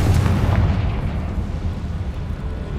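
Confringo blasting spell in Hogwarts Legacy: a loud, close explosive boom at the start that decays into a rumbling, crackling tail over a few seconds.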